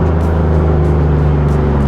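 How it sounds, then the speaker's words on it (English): Full carbon fiber Bugatti hypercar engine droning steadily and loudly up close, a deep sustained rumble with strong low harmonics and no clear break or blip from a downshift. "Listen to this downshift."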